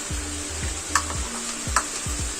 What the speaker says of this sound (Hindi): मैं भून लूँ जी। नाज़रीन तो देखें अभी मैंने ये अदरक काटा हुआ लंबा लंबा, ये हम लोगों ने अभी डालना है